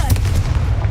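A Confringo blasting spell cast in Hogwarts Legacy, with a dense rumbling blast and rapid crackling bursts over about a second, loud and close.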